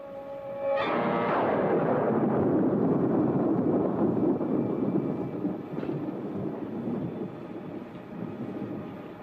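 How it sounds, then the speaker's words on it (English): Thunder in a 1946 film noir storm scene: a sudden loud crack breaks in, then a long heavy rumble that slowly fades over several seconds, with a fainter second rumble near the end and no talking. "Well, another stormy weekend."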